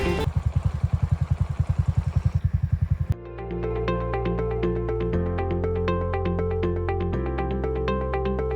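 A motorcycle rides along a village road, its engine giving a rapid regular putter at first, then a steadier droning hum with shifting pitch as it travels, close and loud.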